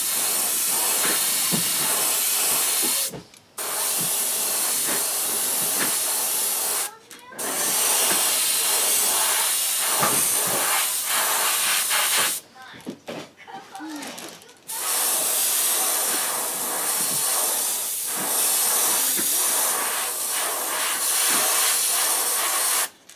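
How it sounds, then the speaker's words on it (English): Bursts of steady hissing spray from an airbrush or spray gun applying pearl white paint to a jerkbait fishing lure, several long passes separated by brief pauses, close by. "We're going to spray some pearl white on it."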